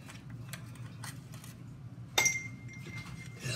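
An ice cube clinks into a glass cup of water in a single bright, sharp clink with a short ringing tail, heard close over a quiet room hiss.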